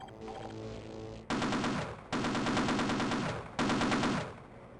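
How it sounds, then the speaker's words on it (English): A mounted turret machine gun in Half-Life fires in three long sustained bursts with brief pauses between them, loud and close, after a short lead-in of game sound. "Oh, and we got the mounted turret."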